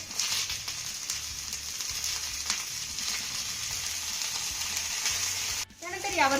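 Chopped eggplant frying in a pan, a continuous close hiss of sizzling oil with small crackles, a brief scrape or stir near the end.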